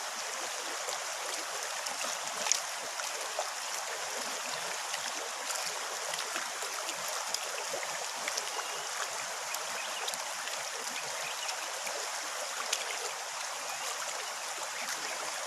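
Freshwater algae rinsed by hand in a stream, a steady soft rush and trickle of flowing water with small splashes, moderately quiet and continuous without talk.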